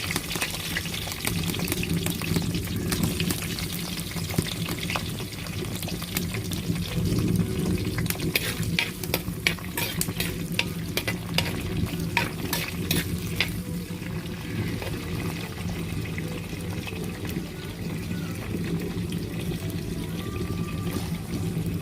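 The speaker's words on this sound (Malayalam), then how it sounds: "പിന്നെ ഇഞ്ചി വെളുത്തുള്ളി എല്ലാം ഇട്ട് കൊടുക്കും അങ്ങനെ ഇളക്കി കൊടുക്കാമേ" Ginger and garlic sizzle steadily in a pan while being stirred, a continuous close frying hiss with bursts of crackle and scraping through the middle, and no speech.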